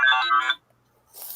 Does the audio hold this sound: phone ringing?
yes